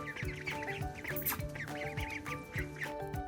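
A mother duck with eleven ducklings gives repeated quacks and clucking calls close by, with bursts of higher peeping scattered through the short stretch.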